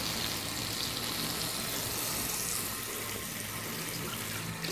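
Pressurised water rinses a Yamaha TDM motorcycle air filter during a service, a steady close hiss and splatter of running water that continues evenly throughout.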